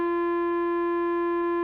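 A clean, unaffected sine tone passes through a synth wave folder module, holding one steady pitch with faint overtones, loud and alone for the whole clip.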